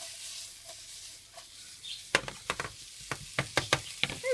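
Meat filling for shish barak meat dumplings cooks in a pan, a faint sizzle joined after a quiet start by a run of sharp scrapes and knocks of stirring, close and irregular.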